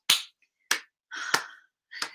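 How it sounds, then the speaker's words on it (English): Four slow, separate hand claps spaced roughly half a second apart, sharp and close, with silence between each. "Slow clap."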